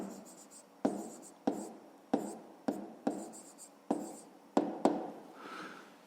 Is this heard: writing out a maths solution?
yes